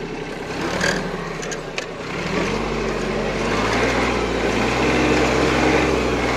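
A tractor-driven mulcher runs through grass taller than the hood, its engine a steady, loud drone that builds after a brief dip and holds close and continuous to the end.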